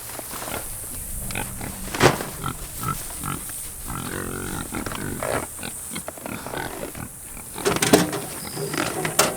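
Pigs kept in Premier 1 hog netting grunt and snort repeatedly at close range, with irregular bursts of louder squeals and snuffling over background noise.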